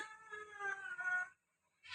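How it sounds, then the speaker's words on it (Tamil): A cat gives a sustained, close meow-like yowl for over a second, breaks off into silence, then starts another loud cry, in a home during a devotional Tamil vlog. "பூனை ஏறிக்கிட்டு ராவடி பண்ணுதுங்க"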